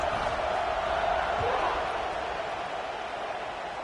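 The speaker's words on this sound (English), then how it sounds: "this crowd is buzzing after that last score" A college football stadium crowd buzzing after a score, a broad, steady roar of many voices filling the background under a commentator's talk.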